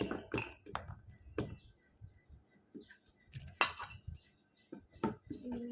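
Clay cups and plates clink and knock together as they are handled, a set of six cups and plates, with sharp scattered taps at close range and brief soft talk between them.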